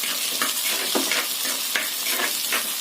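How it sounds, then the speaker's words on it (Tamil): Garlic, ginger and green chilli frying in a pan for a white kurma, a steady close sizzle with occasional stirring scrapes throughout, no talking. "இதுக்கப்புறம் இந்த பூண்டு, இஞ்சி, பச்சை மிளகாய் போடுறேன்."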